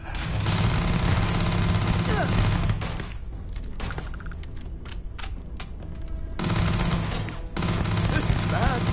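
Sustained gunfire in the space game Starfield, loud bursts of rapid shots with booming impacts, pausing midway before resuming heavily.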